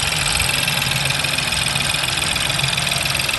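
A 2014 Ford Fiesta engine idles steadily, a constant close hum with a faint ticking texture that carries unchanged throughout, with no voices.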